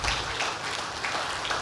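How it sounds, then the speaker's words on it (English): Audience applause at a technology summit, a steady broadband patter of many hands clapping, moderately distant and fairly soft, continuing evenly without voices. "Ladies and gentlemen, another round of applause for him"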